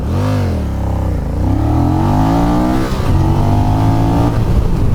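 A 2024 Honda Rebel 1100 cruiser motorcycle launches hard from a stop on a speed-limited road, its engine revving loud and close with rising pitch through gear changes, a steady roaring drive throughout.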